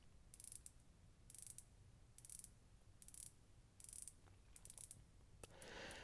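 A 60-click watch bezel with a smooth action turns in several short bursts of rapid, fine ratcheting clicks, quiet and close, separated by brief pauses.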